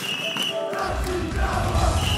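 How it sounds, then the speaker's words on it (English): Packed crowd cheering and roaring at a Dragon Ball FighterZ tournament, the Red Bull World Tour Finals 2020; a loud, dense wall of voices swells steadily for a couple of seconds with no clear pauses. "the crowd's getting loud."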